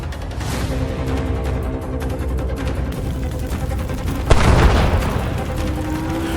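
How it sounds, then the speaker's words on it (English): A heavy missile explosion booms out suddenly after a steady rumbling background as a military vehicle's ammunition detonates, followed by a loud sustained roar that slowly settles. "A blinding explosion followed. The ammunition inside exploded, causing the vehicle to burst into flames."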